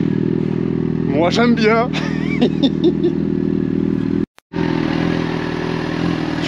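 A motorcycle idles close by with a low, even engine thrum while people chat over it; the sound drops out briefly for a moment before the steady idle resumes.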